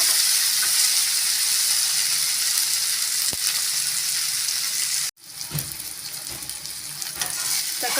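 Tomatoes sautéing in a pan for a drumstick fry, a close, steady sizzle with stirring scrapes, briefly dropping out then resuming and building again.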